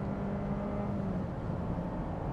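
Honda CR-V with a turbocharged engine and CVT transmission accelerating hard from a launch, a steady, moderately loud engine drone and whir with no distinct gear step.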